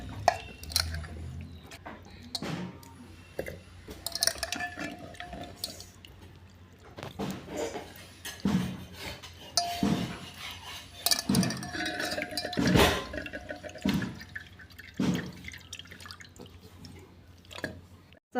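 Half a kilo of goat mutton being washed in water in a pot, with irregular splashes, drips, squishing handfuls and occasional clinks of the vessel, close and fairly quiet with no talking.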